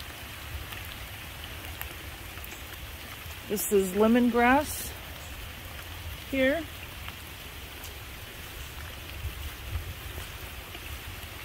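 Rain falls on a garden goldfish pond in a soft, steady, even hiss that carries on throughout, with a person briefly speaking partway through.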